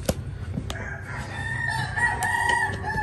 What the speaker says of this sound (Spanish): Y ya está la cantadera de gallos